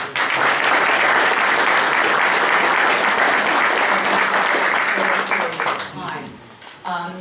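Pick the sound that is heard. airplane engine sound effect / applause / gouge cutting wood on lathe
applause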